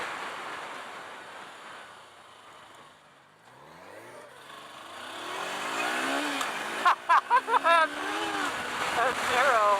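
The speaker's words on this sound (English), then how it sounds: "You gotta get used to twisting the throttle, man." Engine of a 2018 Kawasaki Versys X 300 motorcycle revving as the throttle is twisted, rising through the middle of the clip with wind noise and a short burst of sharp bursts near the end, a voice audible at points.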